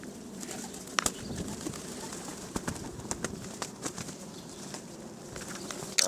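Pigeons feeding outdoors, with soft wing flaps and scattered flutters over a steady low background hiss, fairly quiet and without voices.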